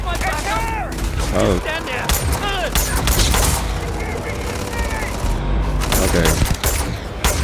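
Gunfire in the game Starfield bursts out in several loud, sharp volleys amid mechanical clatter and booms, with a voice speaking briefly among the shots.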